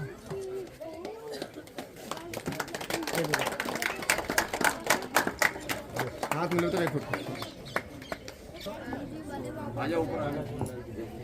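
An audience claps continuously at a school celebration for the Guru Ravidas Jayanti festival, with crisp, uneven hand claps swelling and thinning while a voice speaks over them.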